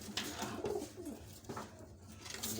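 Young long-distance homing pigeons coo softly and repeatedly at close range in a short stretch of continuous murmuring, with no talk.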